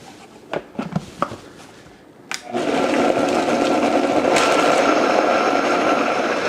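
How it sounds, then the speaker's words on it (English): A countertop blender starts up after a few light clinks and whirs loudly and steadily, blending a creamy jalapeño sauce made with oil, the motor sound holding close and constant to the end. "We're going to go ahead and blend this first."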